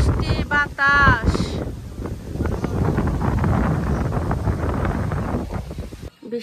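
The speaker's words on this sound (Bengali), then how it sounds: "কি পরিমাণ বৃষ্টি বাতাস।" Heavy rain and strong wind lash down during a storm, a loud continuous roaring rush that buffets the microphone, with a person speaking briefly at the start.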